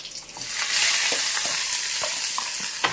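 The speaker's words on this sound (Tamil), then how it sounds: "இப்போ நான் கருவேப்பிலை போடுறேன் அப்புறமா வெங்காயம்" Curry leaves and onion hitting hot oil with popping mustard seeds, a loud, close burst of sizzling that settles into a steady fry, with scattered light spatters and stirring clicks for about three seconds.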